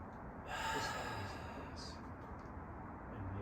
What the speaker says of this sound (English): I just imitated the way that I used to breathe. My deep inhale.